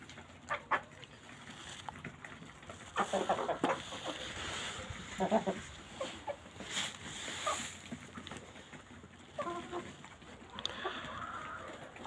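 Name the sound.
chickens and rooster clucking while being fed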